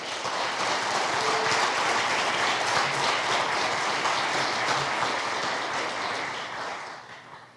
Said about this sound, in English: So with that, give them a round of applause.